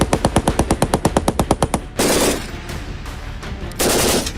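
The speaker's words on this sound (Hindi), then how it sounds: "भारतीय सेना के जवान मेड इन इंडिया MMG से फायरिंग कर रहे हैं।" Indian Army soldiers fire a made-in-India MMG medium machine gun. A rapid, loud burst of about fifteen evenly spaced shots is followed by echoing rumble and then another heavy burst of fire outdoors.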